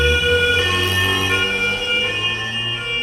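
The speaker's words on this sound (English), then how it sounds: "This is an American old ambulance." An old American ambulance siren sounds loud and close, a steady, sustained wail with strong harmonic tones and a low engine rumble beneath, continuous for the whole stretch with no speech.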